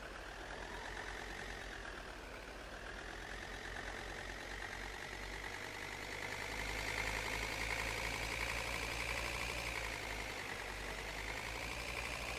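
A John Deere tractor idles in Farming Simulator 19, a low, steady engine drone that swells slightly midway and holds an even rumble throughout.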